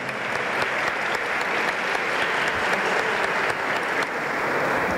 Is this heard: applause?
yes